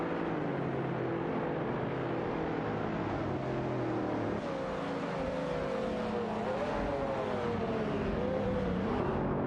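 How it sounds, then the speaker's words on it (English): Racing engines of a Porsche 996 GT3 and a Mercedes SLR McLaren in a video game race, a continuous dense roar with rising and falling engine pitch as the cars accelerate, no voices. "The Porsche 996 GT3 against the Mercedes SLR McLaren."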